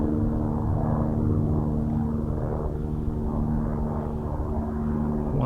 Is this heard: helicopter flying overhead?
yes